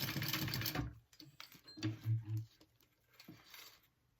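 A home sewing machine stitches down a small tab on a tote bag, giving a few short whirring bursts close by, with a quiet pause after an opening run and no talking.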